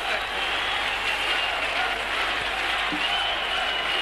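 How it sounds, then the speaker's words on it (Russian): Stadium crowd applauding at a 1980 Moscow Olympics water polo match between the USSR and Hungary, a steady, dense wash of clapping from the stands held at an even level throughout. "Но большинство на трибунах аплодирует Владимиру Акимову."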